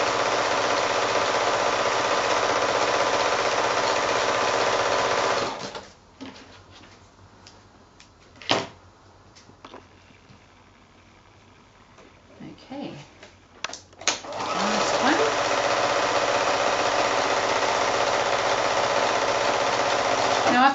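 A sewing machine stitches quarter-inch tucks into fabric in two long runs of steady, close, loud whirring, with a quieter pause between them filled with handling clicks and fabric rustle.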